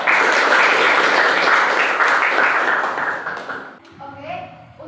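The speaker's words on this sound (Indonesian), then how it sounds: "kasih tepuk tangan" An Indonesian class audience claps steadily after a presentation, dense applause that fades out near the end as a voice begins speaking.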